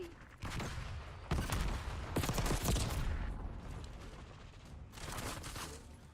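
Shotgun blasts in a Call of Duty match, a few loud booming shots in quick bursts over busy game noise, with no talking.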